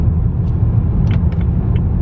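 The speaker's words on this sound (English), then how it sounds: "So all back together now, let's go for a test drive" A BMW with the N54 engine cruises on a test drive, a loud, steady low road rumble with faint brief ticks above it and no talking.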